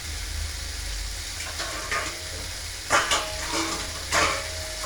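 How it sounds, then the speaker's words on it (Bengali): Okra (bhindi) sizzling in a pan on a home stove, a steady soft frying hiss with a few brighter bursts of stirring and spatula scrapes against the pan, no talk. "আমি এই ভেন্ডিটা একটু ভেজে নিই"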